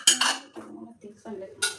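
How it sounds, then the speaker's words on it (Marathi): A metal kadhai is set down in a home kitchen, giving a few quiet clanks and clinks in short bursts with pauses between them, and no voices. "चलो मस्त कढई ठेवूया आणि कढईमध्ये तेल टाकूया"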